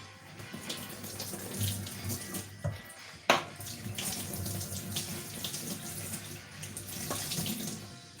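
Tap water runs steadily over spinach leaves being washed in a sink, a constant close rushing stream with occasional splashes and clunks as the leaves are handled.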